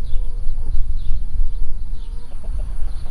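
Several chickens cluck close by in short, overlapping bursts over a low rumbling background.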